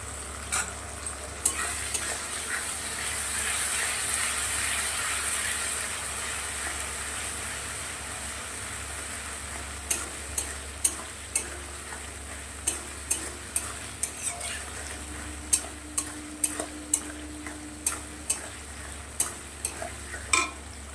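A paste of onion, garlic, tomato, ginger, cumin, coriander and dried chillies frying in a pan, a continuous close sizzle with sharp spatula clinks and scrapes that grow regular in the second half, no talk.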